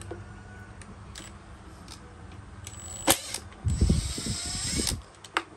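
A nut is worked loose on a Mitsubishi TL33 33cc brush cutter, with scattered metallic clicks followed by a quick burst of ratcheting, close and fairly loud.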